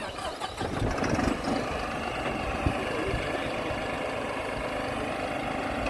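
A New Holland 5620 CRDI tractor engine starts up close by and settles into a steady, rough diesel idle that holds evenly to the end.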